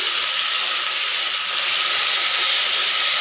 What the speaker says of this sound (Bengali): নুন হলুদ দিয়ে ভালো করে ভেজে নিচ্ছি।